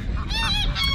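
Ducks leaving their shed give short, nasal honking quacks, loud and close, packed into about a second.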